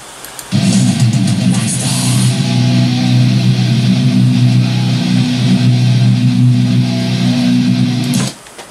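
Distorted electric guitar plays the section 2C riff of a song with a different rhythm, a dense, loud, sustained metal tone starting abruptly after a brief pause and cutting off near the end.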